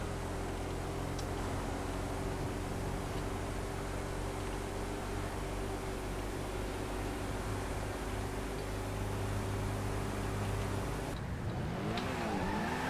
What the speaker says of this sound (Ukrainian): Урус вже їде 180.